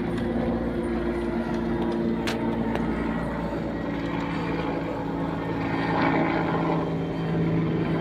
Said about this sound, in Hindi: हेलीकॉप्टर अब घूम चुका है, वहां से घूम के आया हेलीकॉप्टर